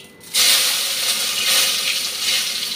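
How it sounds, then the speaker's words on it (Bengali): Chopped garlic dropped into a hot pan while cooking chilli chicken, bursting into a loud, steady sizzle right after a brief quiet start and holding close and hissing to the end. "রসুন কুচিটা আগে দিয়ে দিচ্ছি।"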